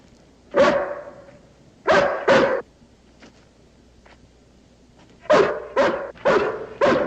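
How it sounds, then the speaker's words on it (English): A hound dog barks in short bursts, one bark, then a quick pair, then a run of four, close and loud with quiet gaps between. "Can't be Jody's hound"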